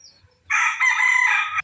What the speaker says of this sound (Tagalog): Ayan po yung ating mga alagang manok.